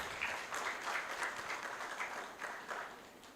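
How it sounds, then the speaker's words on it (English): Audience applause at an intellectual property conference, a moderate, steady patter of many hands clapping together, with slight swells in the clapping and faint voices underneath. "Another round of applause for him."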